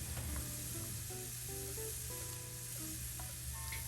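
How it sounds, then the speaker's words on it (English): Mushrooms sizzle in a hot frying pan for a shepherd's pie, a steady close hiss of frying with light stirring scrapes and faint clinks, and no voice over it. "Here I'm adding the mushrooms."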